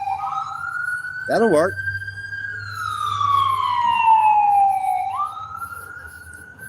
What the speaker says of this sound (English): That was an ambulance going southbound on Parker Road